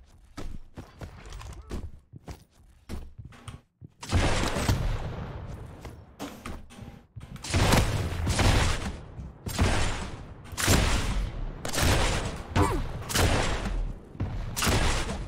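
Rapid rocket launcher fire and explosions from the arena shooter Quake during a ranked match, loud blasts landing in quick bursts of dense impacts, with short gaps between volleys and occasional voices in the mix.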